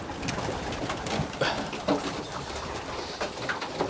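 Pigeons or doves gathered near a drinker coo softly amid a busy bed of rustling and faint outdoor noise, their calls low and repeated throughout.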